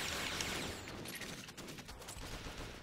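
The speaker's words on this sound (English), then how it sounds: "Ooh, I do see gunfire. Vaguely off in the distance, nowhere near me." Bursts of rapid gunfire crackle at a distance, dense and rattling, with no talking over them, in the video game Perfect Dark Zero.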